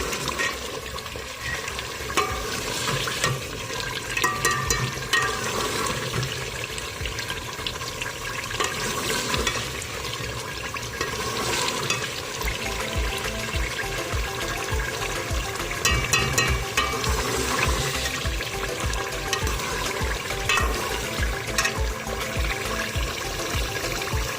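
Potatoes and capsicum (shimla mirch) in masala being stir-fried in a pan, a continuous close sizzle and frying hiss with repeated scraping of a spatula against the pan for the whole stretch.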